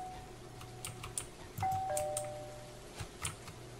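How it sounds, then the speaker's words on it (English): Doorbell chimes ring out in a SpongeBob-themed indie horror game, a few bright electronic ding tones at moderate level over a low ambient drone. "Okay, ring the doorbell."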